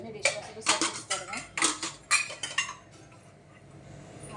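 Dishes and cutlery clink and clatter in a quick series of sharp knocks as they are loaded into a dishwasher, then settle to quiet, with talk partly overlapping the clatter.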